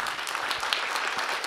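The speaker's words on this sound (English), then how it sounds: "A round of applause." An audience at a startup competition final claps after a pitch, a dense, continuous burst of many hands throughout.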